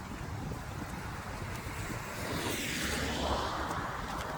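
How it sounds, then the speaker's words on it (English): Wind blowing outdoors, a steady broadband rush with microphone buffeting that swells louder in the second half, heard alone without voices. "The wind is blowing."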